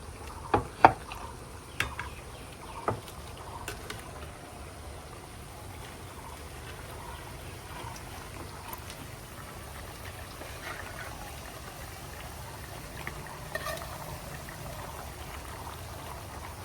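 Beef going into a pot of mustard and nut paste simmers with a soft, steady bubbling and sizzle, a few sharp clinks and thuds near the start, quiet and close throughout.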